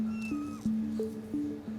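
A grey kitten meows repeatedly in a short string of close, clear calls, with one brief higher cry near the start and no talk over it.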